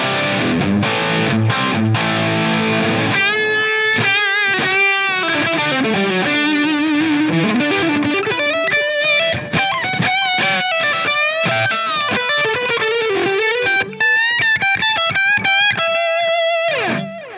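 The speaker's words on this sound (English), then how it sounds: "So what you're hearing is all of the overdrive is coming from my external Bogner-Lagrange pedal." Electric guitar driven through an external Bogner Lagrange overdrive pedal into a Line 6 Helix, playing loud, continuous distorted chords and melodic single-note runs with sustained, gritty tone throughout.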